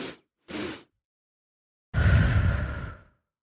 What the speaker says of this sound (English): this breath again is a double inhale in your nose